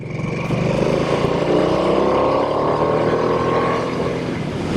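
A Harley-Davidson Nightster Special motorcycle engine rumbles loudly and close while riding, its pitch rising steadily as it accelerates under a constant throaty growl with wind noise.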